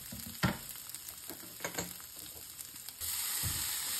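Cumin, ginger, garlic and egg fry in a pan for ramen with a close crackling sizzle, broken by a few sharp utensil knocks, then a fuller, steadier hiss near the end.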